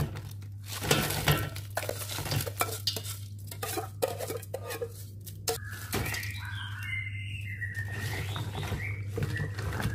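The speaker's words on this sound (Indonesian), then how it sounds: "Lalu kita aduk-aduk terus ya bun" Ice cubes being stirred into an es lumut drink, with repeated clinking and rattling close by against a steady background hum, and no talk.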